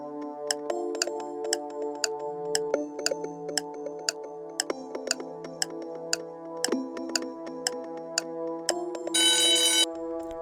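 A telephone rings in a rapid series of bright, repeated electronic chimes over a soft, sustained musical tone, ending in a brief burst of noise.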